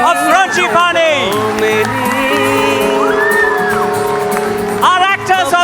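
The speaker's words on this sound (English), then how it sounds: "Let's have a huge round of applause for the cast, crew and performers of Frangipani" An audience at the annual school musical 'Frangipani' whoops and cheers for the cast and crew over loud, tonal music from the stage.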